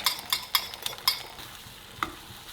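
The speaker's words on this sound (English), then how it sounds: "You always know your pan's hot enough when you can hear it sizzle when you put the eggs in there." Eggs sizzle in a hot pan, a soft crackling hiss broken by a few sharp scrapes and taps of a utensil stirring.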